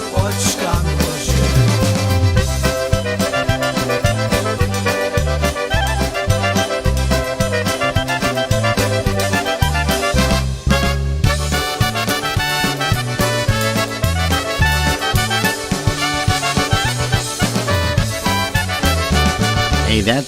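A brass band plays a tune, loud and continuous, with a steady rhythmic bass line under full brass harmonies for the whole stretch.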